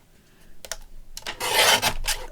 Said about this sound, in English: So let's just give that a bit of a trim down.